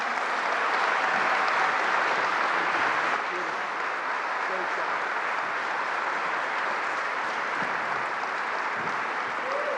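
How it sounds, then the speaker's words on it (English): An audience applauding for a governor at a groundbreaking event in Rochester, dense sustained clapping from a crowd that holds steady for about ten seconds. "please join me in a warm round of applause for our Governor, Andrew Cuomo."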